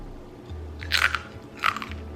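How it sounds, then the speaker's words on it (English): Thin mandolin-sliced crunchy food is bitten close to the mic, producing two sharp, crackling crunches less than a second apart over quiet surroundings. "That crunch."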